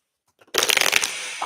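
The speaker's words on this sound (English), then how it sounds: "Let's shuffle this deck." A deck of tarot cards being shuffled, one close burst of riffling and flicking that starts abruptly, runs for about half a second and then trails off into quiet.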